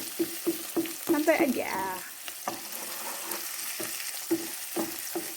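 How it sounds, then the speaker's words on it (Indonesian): Dried shrimp (udang rebon) stir-fried in a pan with chilli and tomato, giving a steady low sizzle broken by regular scraping strokes of a spatula, with a brief voice speaking partway through. "Ini kita tumis dulu sampai agak layu sedikit"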